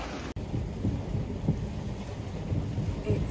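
Rain in a storm aboard a boat at sea in 30-knot winds with waves striking the hull: a constant close hiss of rain and wind, with low thuds and rumbles pulsing beneath it.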